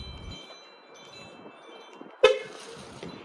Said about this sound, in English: that's how you get it to do the beep, like just the confirmation horn